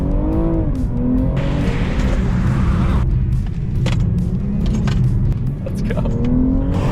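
Race cars run laps on a track at a BMW charity pro-am event, a steady loud engine drone with shifting pitch and a brief tire squeal, voices talking over the motor noise.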